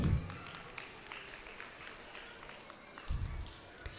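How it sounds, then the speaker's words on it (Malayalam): An audience at a school annual day celebration for St. Antony's English Medium School, Kodanoore, breaks into clapping: a short burst of applause at the start, a quiet stretch, then a second round near the end. "എല്ലാവരും ഒന്ന് കൈയടിക്കാം."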